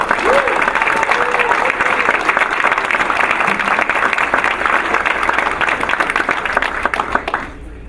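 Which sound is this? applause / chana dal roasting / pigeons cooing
applause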